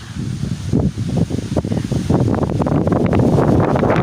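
Strong gusts of wind buffet the microphone, roaring and rustling in uneven bursts that grow heavier toward the end.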